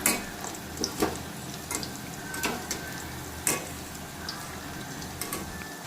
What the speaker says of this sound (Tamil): இப்போ இது 2 சைடும் நம்ம கிளறி விட்டுக்கலாம்.